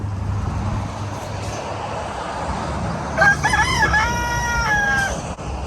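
A rooster on the Appalachian Trail crows once, a loud cock-a-doodle-doo of about two seconds, heard near over steady low background rumble.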